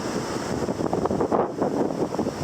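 Strong wind gusting across coastal dunes near the Atlantic Ocean, a loud, continuous roar buffeting the microphone with a dull surf-like rumble beneath, and no voices.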